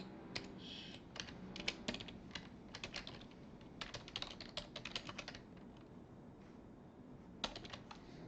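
Typing on a computer keyboard while entering a SharePoint ID, heard as bursts of close key clicks with short pauses between runs, fairly quiet and with no talk.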